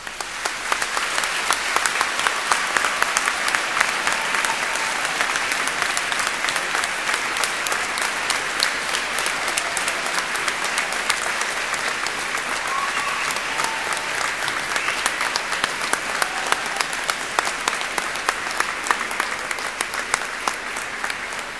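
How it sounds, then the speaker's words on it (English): A graduation ceremony audience gives a long, dense, sustained round of applause for family and friends, steady and loud throughout with no letup. "by giving them all an enthusiastic round of warm applause"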